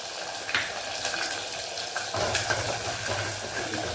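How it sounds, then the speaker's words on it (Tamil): Onions and garlic sauté in oil for a pepper-garlic kuzhambu, a steady broadband sizzle with faint stirring clicks, moderately quiet and close, no talk. "வெங்காயம் பூண்டு ரெண்டும் நல்லா வதங்கணும் உங்களுக்கு."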